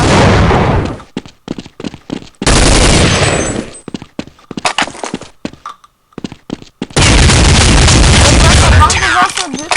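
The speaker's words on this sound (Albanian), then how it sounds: "Granata e parë." Counter-Strike match audio with loud bursts of gunfire and a grenade blast, sharp cracks in rapid volleys separated by brief gaps, with someone commentating over the action.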